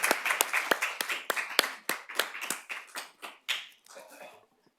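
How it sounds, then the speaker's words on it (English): A small group claps at a school board meeting, with a quick run of distinct, close hand claps that thin out and stop within a few seconds. "let's clap for her"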